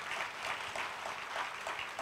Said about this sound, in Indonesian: Tepuk tangan kok. Tepuk tangan.